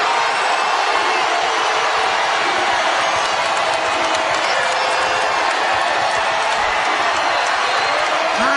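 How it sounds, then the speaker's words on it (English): Crowd at a Utah vs BYU Big 12 college basketball game, a dense and continuous roar of cheering that fills the whole arena. "And this crowd getting involved."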